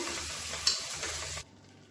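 Tomatoes sautéing in oil for biryani, a close, steady sizzle with a light stir that cuts off abruptly near the end, leaving quiet.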